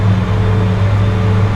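A Gloster Meteor jet engine spooling up in a flight simulator game, a loud, steady droning whir with a low hum, continuous and close, with no voices.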